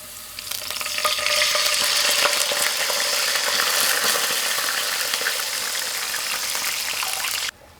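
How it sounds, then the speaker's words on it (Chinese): Aged vinegar, 500 grams, hits seasonings stir-frying slowly over low heat in a wok, bursting into a loud, steady hiss that holds for several seconds before cutting off, with no talking. "然后我们倒入500克的陈醋"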